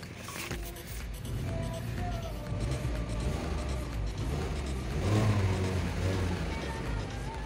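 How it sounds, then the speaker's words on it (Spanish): A Mazda CX-30 engine idling and then revving, a steady mid-pitched hum that rises twice in pitch and loudness, close by, with a person talking faintly over it. "ahí está el carro prendido."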